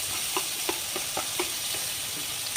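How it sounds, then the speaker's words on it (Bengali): Ground onion and garlic masala frying in oil in a wok, a close, continuous sizzle broken by rhythmic stirring scrapes roughly every third of a second, no voices. "এখন আমি কড়াইতে আবার তেল দিলাম বেটে রাখা মশলাগুলো কষানোর জন্য"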